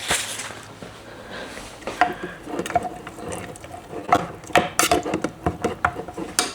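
A spoon stirs a melting homemade healing balm mixture in a pot, giving scattered clinks and scrapes against the pot with irregular rhythm, moderately loud and close, with no talk.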